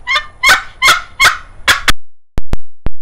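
Handmade wooden goose calls, freshly finished and not fully dry, blown in a series of loud honking notes, five rough honks followed by three short sharp clucks, close and alone with no talking.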